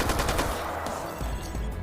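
Sustained video game gunfire from a Tales from the Borderlands battle scene, dense rapid bursts like a machine gun, loud and continuous throughout with no voices.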